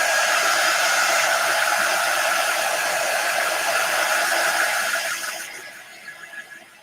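A hair dryer blows steadily on a chalk transfer stencil, a loud, close, continuous whooshing hiss that fades down near the end as it is switched off.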